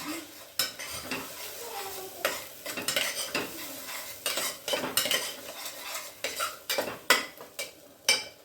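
A spoon scrapes and stirs through a stuffed brinjal and potato curry mixture in a pot. The strokes are close, irregular and fairly soft, with metal clinks over a light sizzle.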